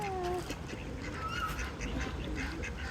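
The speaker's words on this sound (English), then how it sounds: "There's ducks as well." Ducks quack among other waterfowl and birds at an outdoor feeding spot, with several short calls and honks close by over steady outdoor background noise.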